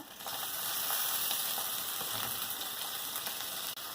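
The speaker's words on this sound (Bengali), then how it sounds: "দেখতে পাচ্ছি লবণ দিয়ে টমেটোটা একটু নাড়ছিলাম, টমেটোটা গলে গেছে" Tomato with salt sizzles and fries steadily in a pan while being stirred, a dense, bright crackle that holds loud and close for the whole stretch, with no voices.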